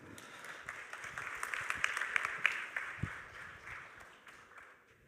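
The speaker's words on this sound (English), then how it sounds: "Please give Martin a big round of applause." A conference audience at the Pragma Prague tech event claps for a speaker. The applause is moderately quiet and fairly distant, with individual sharp claps swelling to a peak and then tapering off over several seconds.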